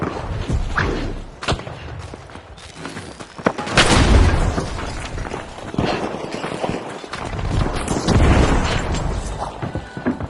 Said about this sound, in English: Explosives deployed.